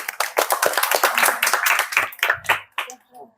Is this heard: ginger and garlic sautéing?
no